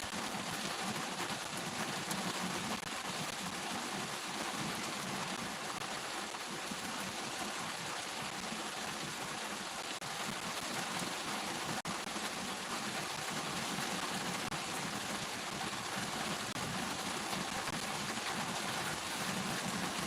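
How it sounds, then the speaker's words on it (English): Steady rain falls without a break, making a dense, even hiss that goes on for the whole stretch, with no voices and no other sounds standing out above it. "I do love the rain, though."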